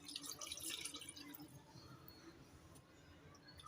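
Water poured into a pot of raw beef with salt and garlic-ginger paste, a soft steady splashing and trickling that is faint and close, with no talk.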